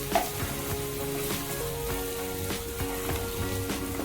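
Sliced bitter gourd fries in hot oil for a Kerala theeyal, giving off a steady close sizzle with crackling pops and occasional stirring.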